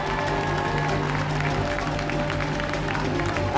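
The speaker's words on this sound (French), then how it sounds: "On peut l'applaudir très fort." Audience at a staged medieval tournament show applauds the declared winner, a steady wash of clapping held at even loudness over a low, constant hum, with a murmur of voices mixed in.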